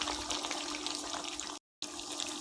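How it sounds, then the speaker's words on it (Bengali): Water runs into a pot of browned broiler chicken curry, a soft steady pouring splash that cuts out briefly near the end and then resumes, with no one speaking. "এখন আমি এখানে পরিমাণ মতো জল দিয়ে দেবো।"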